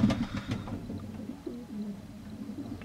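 Pigeons, including half racing pixies, coo softly in an indoor aviary, low murmuring calls in a few short bursts with a faint background hum.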